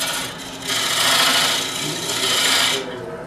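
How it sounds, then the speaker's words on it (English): A diamond-shaped lathe tool cuts a groove into the tenon of a spinning wooden calabash bowl, giving a steady close scraping rasp that swells for about two seconds, with faint workshop hum before and after. "I'm going to cut a little groove right in the inside of my tenon down there in the corner"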